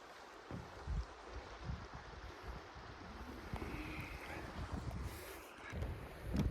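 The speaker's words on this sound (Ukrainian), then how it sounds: "дме вітер" Steady wind buffets the microphone outdoors near a suspension bridge over the Stryi River, a continuous rushing roar with low gusty thumps rising and falling throughout.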